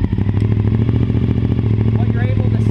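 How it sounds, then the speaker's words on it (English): A motorcycle engine idles with a fast, steady chugging putter, close and loud, while a voice talks briefly over it. "go ahead and fire up the motorcycle."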